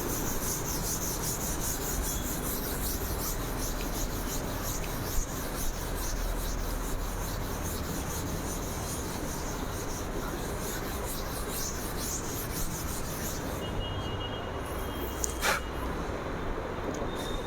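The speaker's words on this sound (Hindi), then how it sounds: "इसको मैं मिटा रहा हूँ, रब कर रहा हूँ" Steady rubbing and rasping of an eraser across a board as physics class notes are wiped off, a continuous scratchy friction sound lasting throughout, close and even in loudness, with no talking.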